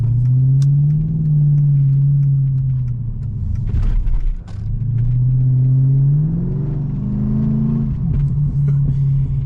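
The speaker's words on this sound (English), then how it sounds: "I'm just driving this car, man. It sounds so good." A Mercedes CLK 500 convertible with a bad control arm gives a steady, loud, deep engine drone while driving, with a brief dip and swell in the middle, and no talking over it.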